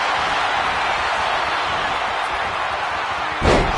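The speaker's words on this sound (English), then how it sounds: "German suplex." A German suplex slam in the wrestling video game WWE 2K25 lands as one brief impact near the end, over steady loud arena crowd noise.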